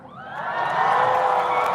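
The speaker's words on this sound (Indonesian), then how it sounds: "Kita berikan tepuk tangan yang meriah" A church congregation at an outdoor revival gathering cheering and whooping, a swelling roar of many voices rising and holding loud, with faint clapping underneath.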